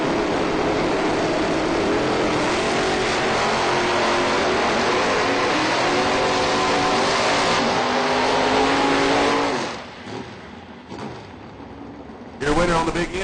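Two drag race cars, a Chevy Vega and a Buick Regal, launch side by side at a drag strip with a loud, sustained engine roar that holds for several seconds and then fades sharply as they pull away.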